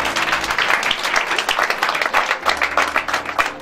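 A church congregation at a Sunday service claps steadily for Jesus, a dense, continuous burst of close applause with no voices over it.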